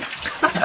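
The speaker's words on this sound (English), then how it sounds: "you're sticking your head under the faucet" Water runs from a kitchen faucet in a brief, close, steady splashing rush.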